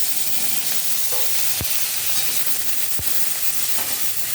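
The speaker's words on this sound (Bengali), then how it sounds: "তেল গরম হয়ে গেছে, তাই তেলের মধ্যে একটা তেজপাতা দিয়ে দিয়েছি, আর এটা দিচ্ছি পেঁয়াজ আর টমেটো কুচি" Chopped onion and tomato with a bay leaf crackle in hot oil for a fish roe curry. A loud, dense sizzle fills the whole stretch, broken by two sharp knocks from the pan or utensil.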